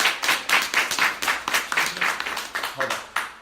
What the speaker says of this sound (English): If you agree, clap your hands.